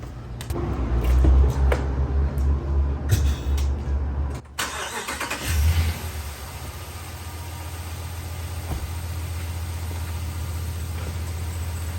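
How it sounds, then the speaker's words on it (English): A 2019-or-later Ram 1500 pickup engine cranks and fires after an air conditioning modification, a loud rumbling start that briefly cuts, then settles into a steady close idle hum. "Now we're going to fire up and make sure we don't have any leaks."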